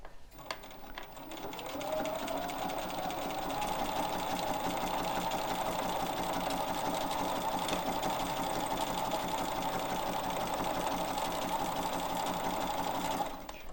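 A sewing machine stitches quilt blocks in a quilt-as-you-go project, starting up after a second and then running steadily and evenly at close range with a continuous rapid mechanical chatter, alone, until it stops near the end.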